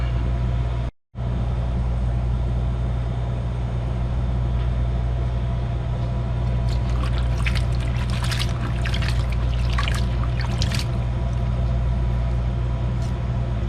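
Cold water runs steadily from a tap over cut potatoes for french fries, a continuous rushing pour broken only by a brief cut near the start.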